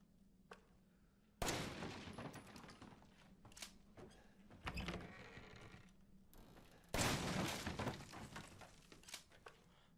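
Repeated gunfire from the video game Resident Evil 7 bursts out in loud, clustered blasts with crashing impacts between them, heard alone without talk.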